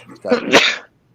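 A single sharp sneeze, close and loud, bursting out after a short inhaled lead-in, then silence.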